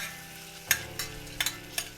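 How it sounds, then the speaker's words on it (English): Salted onions sizzle in a pot, with a low steady fry under a handful of sharp stirring scrapes and crackles spaced through a brief, close stretch. "we shall cook the onions till it becomes golden brown"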